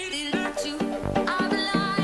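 Tech house drop with a synth loop, synth effects, a bass stab and piano chord stabs, heard as dense, loud electronic music with punchy rhythmic hits and bright sustained synth tones, no voices.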